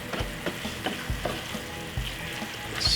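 Tuna frying and being stirred in a pan, a steady close sizzle broken by several sharp scraping stirs at a loose rhythm, with no talking.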